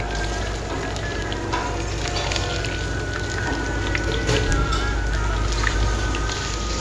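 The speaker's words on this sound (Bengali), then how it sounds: "এটা হচ্ছে তোমার সাউথ ইন্ডিয়ান স্টাইলের, তো সেটা ফ্রাই করছে এখন।" South Indian style food frying in a pan, a steady, fairly loud crackling sizzle with dense popping throughout, heard alone without talk.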